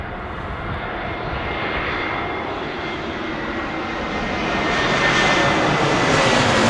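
An aircraft engine spooling up at Heathrow Airport, a loud broad roar close by that grows stronger toward the end, with no voices over it.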